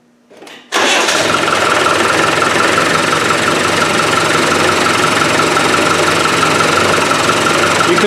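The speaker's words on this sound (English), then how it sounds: "Here we go, I'm going to turn the engine on. It's going to be noisy" A Land Rover 300Tdi diesel engine with air in its fuel system cranks briefly, then fires and settles into a loud, steady idle that runs uninterrupted to the end.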